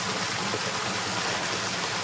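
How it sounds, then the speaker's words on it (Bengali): A waterfall pours steadily in the hills of Bandarban, Bangladesh, making a dense, unbroken rushing roar that fills the whole short stretch, close and loud, with no talk. "পানি পড়তেছে, এই পানির সাউন্ডটা"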